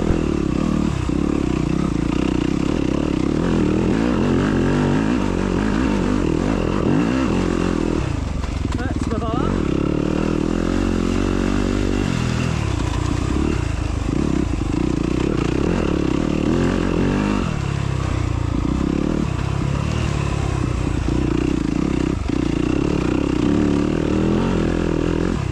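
A 250 dirt motorcycle engine on a cross-country race course in France, running loud and continuous with revving surges, clatter and scraping, while a voice speaks over it throughout.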